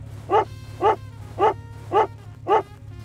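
Video game dog from Pumping Simulator 2 barking five times at an even pace, short sharp woofs spaced about half a second apart over a low steady background hum.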